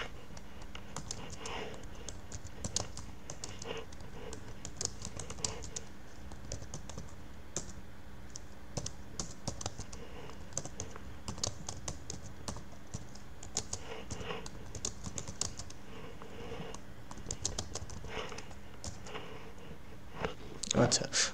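Rapid keystrokes on a computer keyboard as an email is typed: steady clicking bursts with short pauses continue for about twenty seconds, close and moderately loud.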